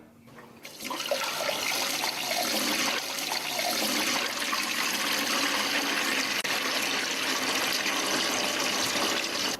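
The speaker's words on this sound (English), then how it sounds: "Load the storage tank of water cooler." Water pouring steadily into the storage tank of a water cooler during a refrigeration training exercise, a continuous rushing fill that starts abruptly and holds at an even level with no voices.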